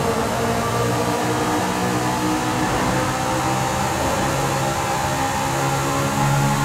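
A Honda S2000 revs hard under full throttle with a loud, continuous high-pitched engine wail, rising through the gears with brief shifts and no talking over it.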